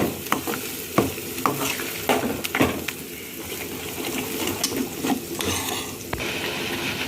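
A tempering for coconut chutney sizzles and fries in a pan as a spoon stirs it, with steady crackling and a series of sharp scraping and tapping knocks against the pan, close and continuous.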